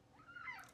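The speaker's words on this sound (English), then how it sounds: "He's a black cat" A black cat gives a single short meow, faint and close, rising then falling in under a second.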